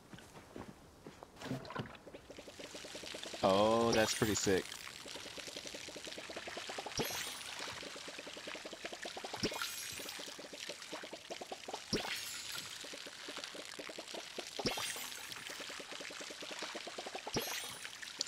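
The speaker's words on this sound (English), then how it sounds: "now I just water them" Watering plants with a watering can in the video game Palia, a steady soft pouring trickle with repeated splashy bursts and chimes under a brief spoken remark.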